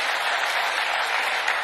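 Steady audience applause for Joe Biden at a State Department foreign policy address, a dense wash of clapping from a crowd with no pause.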